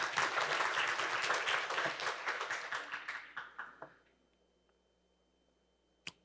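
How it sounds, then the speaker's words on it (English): Applause at a corporate sustainability keynote event thanks sponsors, a dense round of clapping that thins to a few last claps and fades out, followed by quiet and one small tick. "I'd like a round of applause now."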